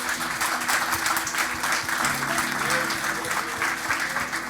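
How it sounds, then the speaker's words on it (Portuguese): A church congregation applauds in praise of Jesus, steady dense clapping from many hands filling the room for several seconds without a break. "Vamos aplaudir Jesus?"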